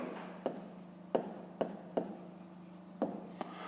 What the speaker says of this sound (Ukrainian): Пишемо, якщо.